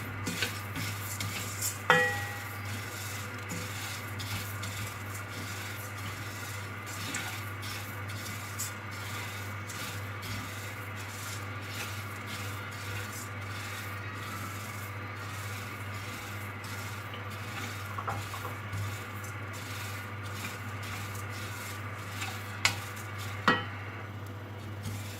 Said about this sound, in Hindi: अजवाइन, काली मिर्च, ये सब चीज़ें डाल के इसे हल्का सा भून लेना है, लाइट ब्राउन होने तक